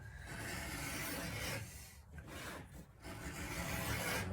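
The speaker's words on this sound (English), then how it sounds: "You can run a nice bevel down that whole edge." Close, quiet scraping as a beveling tool runs along the edge of Hermann Oak Old World harness leather for split reins, a continuous rasp with two brief pauses.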